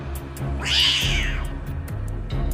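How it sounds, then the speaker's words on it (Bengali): A cat lets out a sudden loud scream in a garden at night, a single long, rising and falling wail set against a steady low hum. "খানিক পরেই বিড়ালটা হঠাৎ খুব জোরে আর্তনাদ করেই"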